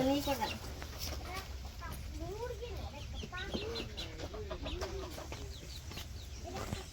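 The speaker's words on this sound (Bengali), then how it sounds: "এটা মুরগি" Chickens cluck repeatedly in short, rising calls on a street in Dhaka, fairly close, with a steady low hum of background noise and people talking nearby.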